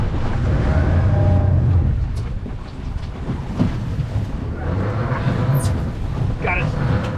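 Rough-weather wind gusts roar and buffet the microphone on a small fishing boat off Sydney, a loud, steady low rumble with swelling surges, while people talk nearby.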